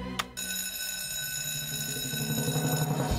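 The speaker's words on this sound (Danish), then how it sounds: "Så kan jeg godt trykke på alarmen." An alarm bell rings steadily at a cartoon fire station in Fireman Sam, a continuous bright, sustained ringing tone that follows a short sharp click at the start.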